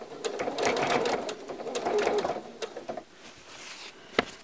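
A sewing machine stitches quilt binding around an inner corner, running in close rapid bursts that pause and restart, with a single sharp click near the end.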